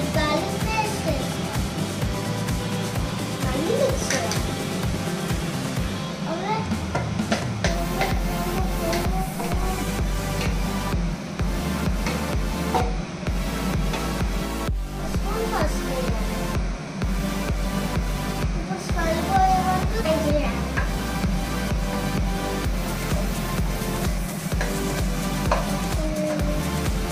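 Ginger garlic paste fries in oil for an Andhra-style fish curry, a steady sizzle with occasional stirring scrapes while someone talks over it throughout.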